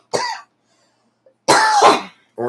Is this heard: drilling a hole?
no